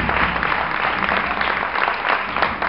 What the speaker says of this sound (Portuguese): Pode aplaudir o seu irmão nesse momento.